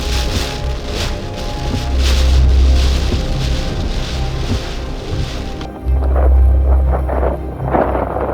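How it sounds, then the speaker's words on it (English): A big gust of wind in extreme weather roars loudly against the microphone for several seconds. It eases briefly, then surges back just as hard, with a hollow rumbling buffet throughout. "that was a big gust of wind right there"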